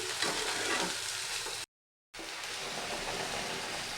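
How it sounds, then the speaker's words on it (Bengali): Shredded cabbage sautés in a pan for a cabbage payesh, giving a faint, even hiss of frying that cuts out briefly to silence before resuming at the same low level. "বাঁধাকপিটা বেশ কষাতে শুরু করেছি"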